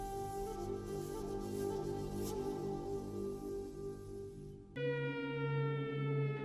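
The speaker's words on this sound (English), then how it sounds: "To the frightening sound of air raid sirens" Air raid sirens wail over a night-time evacuation in 1945 Manchuria, several sustained rising-and-falling tones layered together, loud and continuous, with a sharp change to steadier, higher-pitched siren tones near the end.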